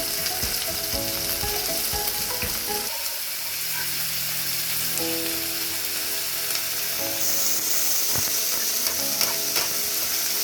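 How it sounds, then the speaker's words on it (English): Beef sizzles and crackles steadily in a hot pan over medium heat for a stir fry, a constant bright hiss with occasional scraping stirs, no talking. "At this point, I'm frying my beef at medium heat"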